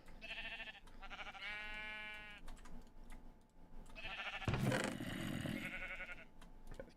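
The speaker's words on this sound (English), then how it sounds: "Oh, these sheeps are gonna drive me bonkers." Sheep in a video game bleat repeatedly in wavering, nasal cries, several overlapping calls at moderate volume with a brief thump partway through.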